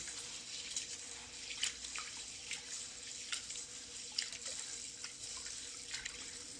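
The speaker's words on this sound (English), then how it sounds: "I wash sorghum." Sorghum grains washed in water, with a steady running-tap wash and scattered small splashes and drips throughout, fairly quiet and without voices.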